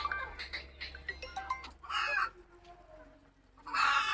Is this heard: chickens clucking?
yes